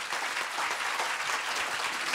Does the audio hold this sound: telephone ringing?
no